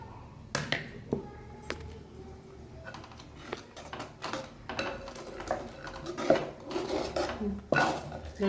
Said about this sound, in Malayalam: നമ്മളിവിടെ ഇളക്കിക്കൊണ്ടിരിക്കുവാണ്